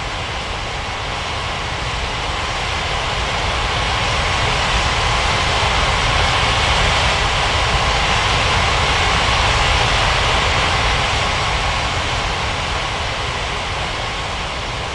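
A jet airliner taxis toward runway 27 at Ngurah Rai Bali International in an air traffic control game, giving a continuous loud, even engine roar with no talk over it.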